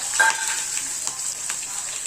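Oil crackles and sizzles steadily in a pan as mustard seeds crackle, with sharp little pops scattered across a bright hissing bed, close and fairly loud, no voices.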